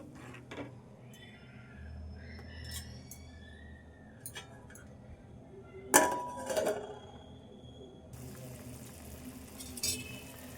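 A masala egg curry made with green chilli simmers quietly in a pot, with occasional metallic clinks and scrapes of a spoon stirring it, a few sharper clatters standing out.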